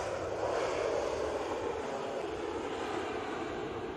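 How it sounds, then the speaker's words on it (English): An Aer Lingus airliner bound for Orlando taxis at Manchester Airport, a steady distant jet-engine rumble and whine holding at an even level throughout. "Aer Lingus for Orlando is coming out"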